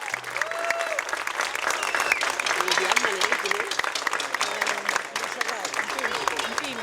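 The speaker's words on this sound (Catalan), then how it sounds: "un aplaudiment, sisplau" A crowd at a school's 50th anniversary celebration claps loudly and continuously, a thick wash of applause with voices and cheering mixed in throughout.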